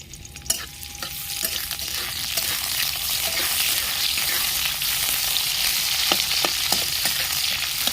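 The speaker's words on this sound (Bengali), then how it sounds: "গরম হয়ে গেছে আমি পেঁয়াজ পেঁয়াজ কুচি দিয়ে দিচ্ছি" Chopped onion frying in hot oil for a spicy pasta with winter vegetables, giving a steady, loud sizzle throughout with occasional scraping clicks of a spoon stirring in the pan.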